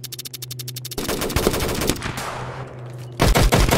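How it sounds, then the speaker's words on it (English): Gunshots in a Roblox police patrol game, rapid bursts of automatic fire, close and loud, with a rattling volley at the start, a noisier stretch in the middle, and another quick burst at the end. "Oh, shots fired."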